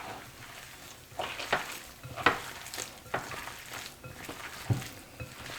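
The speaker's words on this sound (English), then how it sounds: "we're just going to get in here and mix this up with our hands" Ground hamburger meat and seasoned Italian sausage squished and mixed together by hand in a bowl, soft wet squelching and slapping in irregular bursts, close and fairly quiet, with no talk.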